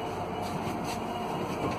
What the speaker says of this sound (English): And we're off on our first Iranian train.